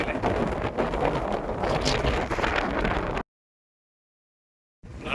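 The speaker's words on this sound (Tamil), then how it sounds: "காற்று ரொம்ப அடிக்குது." Strong wind roars across a hilltop, buffeting the microphone loudly for about three seconds before the sound cuts out, then returns briefly.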